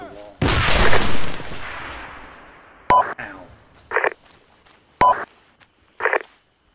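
A frag grenade explodes in a military shooter game with a loud, close boom and a long fading rumble, followed by several sharp, shorter bursts and clicks at spaced intervals.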